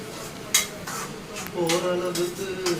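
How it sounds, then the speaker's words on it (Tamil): A spoon stirs and mixes fish garlic curry in a pan with steady scraping strokes and a clink near the start, under a low simmer. "எல்லாத்தையுமே அழகாக நல்லா மிக்ஸ் பண்ணி கலந்து விட்டு"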